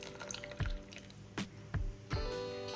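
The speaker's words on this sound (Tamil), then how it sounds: "இதை நான் இந்த டைமில் வந்து நான் வந்து புளித்தண்ணியை சேர்த்துக்கிறேன்" Tamarind water being poured into a simmering Indian parai fish curry gives a few close, soft splashes and drips in quick succession, quiet and with no talking.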